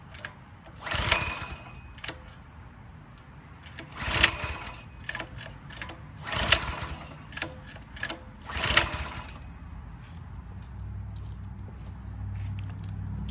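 A Coleman CT200 mini bike engine is cranked four times with a pull-start, each a short rough burst of mechanical noise that never catches, followed by a quieter low hum at the end.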